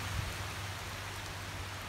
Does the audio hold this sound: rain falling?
yes